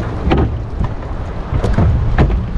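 Sea waves slap against a small boat out at sea, giving steady, loud, rumbling splashes under heavy wind noise with no talk.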